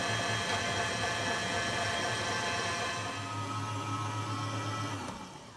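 An electric mixer beating buttercream frosting runs as a steady loud whir with a constant motor tone, close and continuous, easing off near the end.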